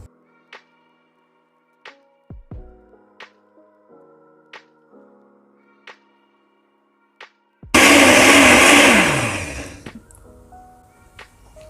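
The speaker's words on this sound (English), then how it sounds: "So I'm going to pour every bit of the diced coconut into my blender." Diced coconut and water being blended, a few sharp clicks and knocks at first, then a loud continuous roar of the blender for about three seconds before it winds down.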